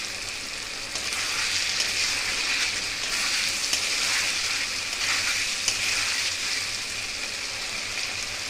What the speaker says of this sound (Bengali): দুটো তেজপাতা ছিঁড়ে আমি ফোড়ন দিলাম।